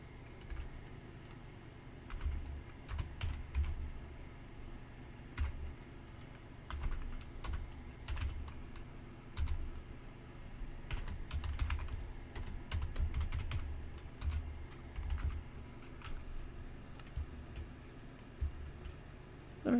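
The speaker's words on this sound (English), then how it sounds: "I'll just type it in." Fairly quiet, steady typing on a computer keyboard, with a continuous run of light, uneven key clicks over roughly twenty seconds and no talking.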